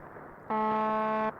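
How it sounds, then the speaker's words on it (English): A single harsh, droning buzz from the shortwave numbers station known as The Buzzer lasts under a second, a steady monotone tone over faint radio static. "Sometimes the buzzer signal is interrupted"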